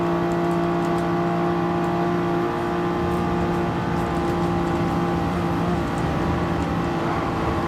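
Race cars, a Lexus among them, drone steadily through a Gran Turismo 7 Manufacturers Cup race at the Nürburgring. The loud, continuous engine whine hardly changes pitch and carries no talk.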